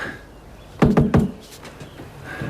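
A few sharp knocks on a door, three quick raps close together, then quiet room tone.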